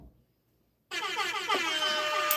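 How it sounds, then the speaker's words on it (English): After a brief silence, a loud, sustained air horn blast sounds and holds its steady, blaring tone to the end. "We start shortly after the air horn."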